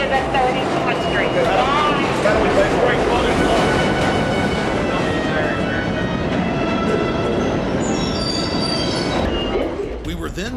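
New York subway train rumbling loudly through a station, steady clatter with squealing wheels and metallic screeches near the end, close and continuous.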